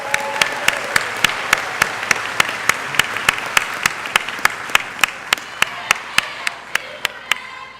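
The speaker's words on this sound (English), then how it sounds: "Can we just have another round of applause for Paul and Max" An audience at the Beloit College convocation applauds steadily, a dense wash of clapping with one sharp, evenly spaced clap cutting through at a regular beat throughout.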